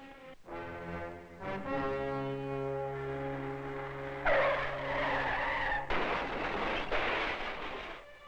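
A car skids out of control at an intersection on a sunny afternoon, its long tire screech rising loud and close over an engine hum with strong tonal harmonics, followed by broadband crash-like noise, with no talking.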